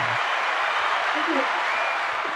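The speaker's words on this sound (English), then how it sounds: "There's a round of applause for your 5 years of 40 touchdowns." Round of applause, a dense steady wash of clapping that runs the whole moment at moderate level, with voices talking over it.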